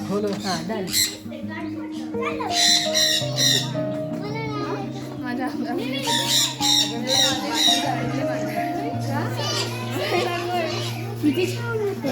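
A parrot squawks repeatedly, loud and close, inside an aviary, mixed with excited children's voices and chatter around it.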